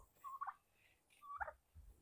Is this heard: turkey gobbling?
yes